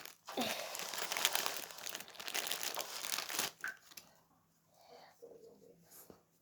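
Crackly crinkling and tearing of a shopping package as it is opened, loud and continuous for a few seconds, then fading to quieter rustles and faint breathing.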